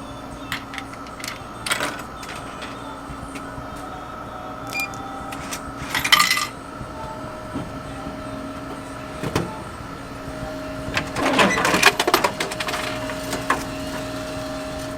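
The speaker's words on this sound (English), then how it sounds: "Stick in the money, press the button for whatever you want to buy." A Japanese vending machine takes inserted money and vends a purchase: quiet machine hum with scattered clicks and clunks, a brief rattle around the middle, and a busier clatter of mechanical sounds toward the end.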